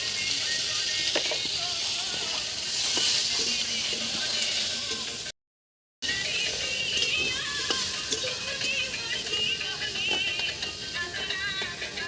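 Food fries in a pan with salt and turmeric, giving a continuous, fairly loud sizzle and hiss with faint stirring knocks and a brief dropout midway.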